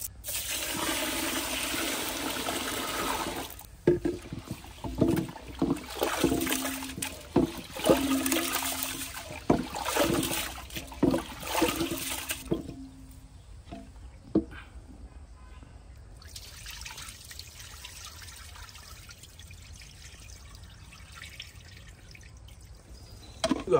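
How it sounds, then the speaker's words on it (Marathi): Four kilograms of basmati rice for quail biryani being washed in clean water, with sloshing, splashing and dripping, loud and close for the first dozen seconds, then quieter trickling and drips alone. "तो आपण आता स्वच्छ पाण्याने पहिले धुवून घेऊ आणि त्याला भिजत टाकू।"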